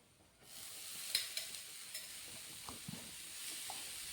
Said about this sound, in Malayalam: ഇനി നമുക്ക് ബീട്രൂട്ട് അരിഞ്ഞത് കൂടി ഇട്ട് കൊടുക്കാം.